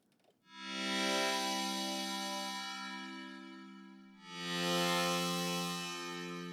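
An FM synthesizer patch with LFO pitch modulation, reverb and a light phaser plays two long, bright, buzzing sustained notes that fade slowly and warble slightly in pitch, with no talking.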